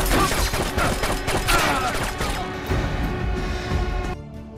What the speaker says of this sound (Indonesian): Suara tembakan dari Leonard memancing kedatangan pasukan polisi.